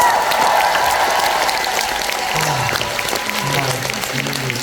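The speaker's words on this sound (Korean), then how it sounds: "그리고 스페인에 있는 모든 사람들에게 박수 한번 부탁드리겠습니다" Concert crowd applauding in a live music venue, a broad continuous clapping wash with faint voices mixed in and a low tonal hum rising near the end.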